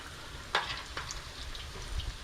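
Battered pickles drop into hot oil in a large wok, giving a soft, steady sizzle with a few sharper crackles and spits over a couple of seconds.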